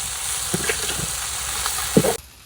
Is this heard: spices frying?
yes